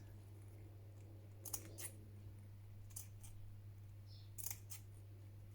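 Scissors snip through pink lace to cut out a flower shape, a few quiet, close clicks spaced apart over a steady low hum with no talking.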